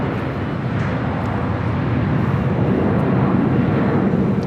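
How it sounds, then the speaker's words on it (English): A brand new Delta Airlines Airbus A321neo airliner passes at LAX, a steady, fairly loud broadband jet roar that builds slightly toward the end. "Delta Airlines Flight 413. It's the brand new A321 Neo."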